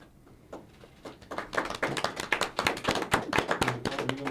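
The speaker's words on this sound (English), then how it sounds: "We gotta clap." Hands clap in a building rhythm for a panelist at a live Lansing hip-hop history panel, starting sparse and swelling into steady, fairly close clapping.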